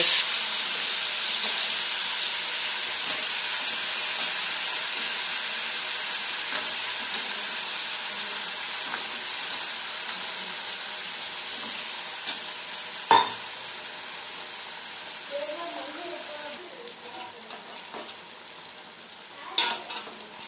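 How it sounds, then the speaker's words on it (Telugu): Ridge gourd pieces fry with tomato in a pan, giving a steady broad sizzle and hiss throughout, with a few sharp clinks of stirring near the middle and end and no talking. "ఇప్పుడు బీరకాయ ముక్కలు వేసుకుంటున్నాను"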